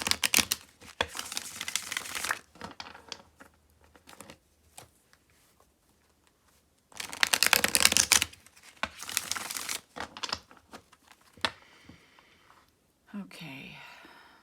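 Oracle cards are shuffled close by in a few crisp riffling bursts separated by quiet pauses, with soft rustling between them.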